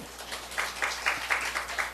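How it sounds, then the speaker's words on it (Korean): Congregation clapping during a morning church service in Seoul, a faint, even patter of hands in a rhythmic beat. "그렇게 하실 하나님께 박수만 해드립니다"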